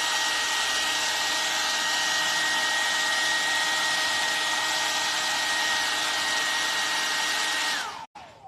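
Hair dryer blowing steadily to dry paint on an aluminium piece, a constant close whir with a high tonal hum that runs for about eight seconds before cutting off abruptly.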